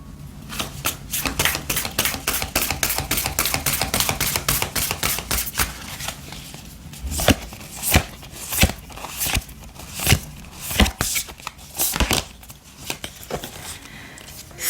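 Oracle cards shuffled by hand during a tarot reading: a fast run of crisp riffling flicks, then slower, heavier slaps and taps of the deck, close up with no talking.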